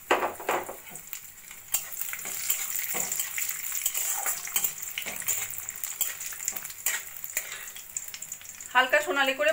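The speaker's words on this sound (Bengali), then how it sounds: "প্রথমে আমি কিছুটা কাজু আর কিশমিশ ভেজে নেব।" Cashews and raisins fry in white oil in a wok, with a steady sizzle broken by repeated sharp clinks and scrapes of a spoon stirring against the metal, while a voice briefly speaks near the end.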